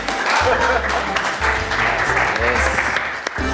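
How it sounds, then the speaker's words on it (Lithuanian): Applause for a team in a TV game show studio, a dense burst of clapping filling the room for a few seconds, with voices mixed in underneath. "Plojimai man to komandai"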